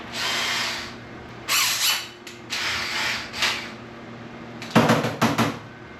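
A power drill spins up in several short bursts while used to strip plastic insulation off copper wire, the whine rising and falling between pauses, close and fairly loud with some rattling of the wire.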